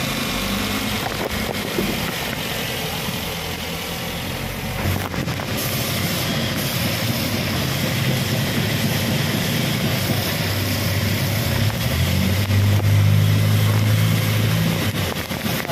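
A Suzuki APV engine runs after a timing belt replacement, a steady continuous idle drone with low rumble, close and even throughout with no talk.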